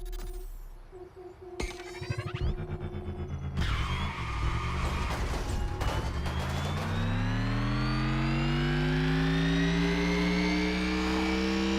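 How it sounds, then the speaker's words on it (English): Electric motor of a Mercedes-Benz Vision EQ Silver Arrow in a racing video game, a loud sustained whine that sweeps steadily upward in pitch as the car accelerates, after a few short startup clicks and tones. "But this is not the only electric engine sound in the game."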